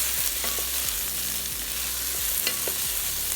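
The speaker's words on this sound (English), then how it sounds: "And then just give that a good stir." A curry base with spices and salt is stirred in a frying pan, with a steady sizzle under repeated scraping strokes of a utensil, close and moderately quiet, no talking.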